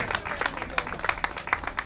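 Applause from a crowd at the prize-giving of a 5 km road race, honouring three women winners; scattered clapping with uneven bursts, moderately faint and steady throughout.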